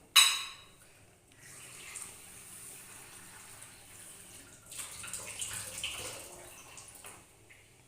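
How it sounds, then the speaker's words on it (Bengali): Water poured over rice in a bowl for soaking, for muri ghonto: a soft trickling, splashing pour, quiet and close, that rises and fades after an initial clink, with no talking. "এটা আমি কিছুক্ষণ ভিজিয়ে রাখবো এই চালটা জল দিয়ে"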